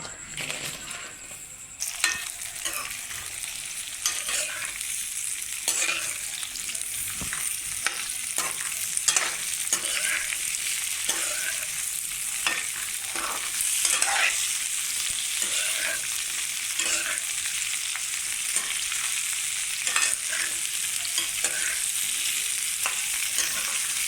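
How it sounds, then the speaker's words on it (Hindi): Okra (bhindi) fries in half a cup of oil, a steady close sizzle with frequent spoon scrapes and stirring clatter running throughout. "आधा कप ऑयल, अब मैं इसमें भिंडी डाल दूँगी।"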